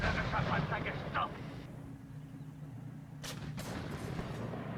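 Tank cannon fire in a video game: a muffled rumbling blast fades early, then two sharp booms crack close together, all faint, with a voice calling out in German.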